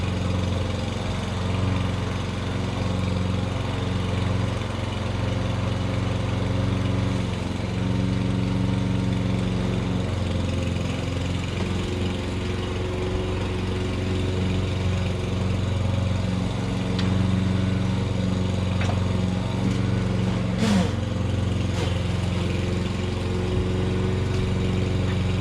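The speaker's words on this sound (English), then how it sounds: "My son's starting to cut the lawn." A lawn mower drones steadily in the background as a lawn is cut at home, a constant mid-pitched engine hum that holds without pause, with no talking over it.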